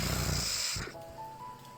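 Snoring from a children's farm storybook, a loud rasping breath that fades at under a second, followed by a thin sustained tone.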